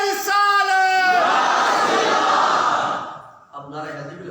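Large religious gathering at a mehfil shouting back a slogan chant in loud unison, a sustained roaring crowd response lasting several seconds after a leader's call, then fading as a voice resumes.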